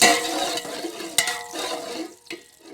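Onions hiss and crackle in hot oil while a spoon stirs them around the pan, a steady close sizzle with a few scraping knocks and no talking.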